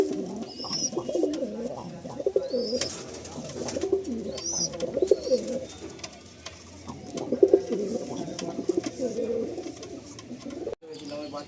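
Madrasi pigeons in a loft coo steadily in low, overlapping rolling calls, with a few brief higher chirps above, fairly close and continuous.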